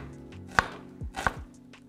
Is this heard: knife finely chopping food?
yes